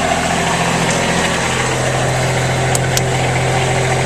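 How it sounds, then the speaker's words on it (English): A small Kubota diesel idles in a Bobcat S70 skid steer loader, a loud, steady, close-up engine drone with an even low throb throughout and two brief high clicks near the end. "You hear that little Kubota diesel go?"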